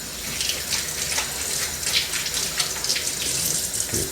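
Fruit and a radish being washed under a running tap, a continuous close gush and splash of water with small shifting surges as the produce is turned in the stream, no voices.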